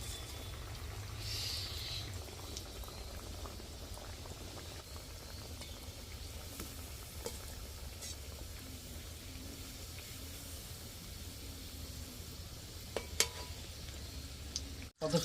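Fish fingers fry in hot oil in a village kitchen, a steady soft sizzle and bubbling that runs throughout with a few faint clinks near the end and no speech.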